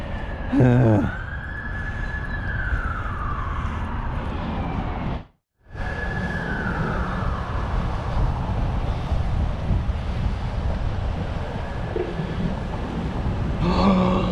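A police car siren wails up and down over heavy wind noise, briefly cutting out midway before resuming, in Seattle traffic.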